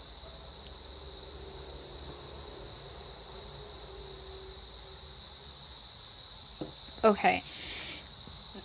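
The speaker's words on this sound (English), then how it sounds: "I'm so sorry for the background noise, I think it's crickets" Crickets chirp indoors as a steady, faint high-pitched drone behind a brief word of speech near the end, with a few soft handling noises.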